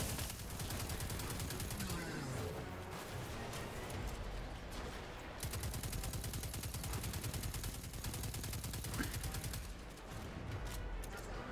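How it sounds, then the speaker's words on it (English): Enemy gunfire aimed at the player in Destiny 2, dense rapid bursts of shots layered over heavy game sound effects, loud and nearly continuous throughout. "This little motherfucker right here won't stop shooting me."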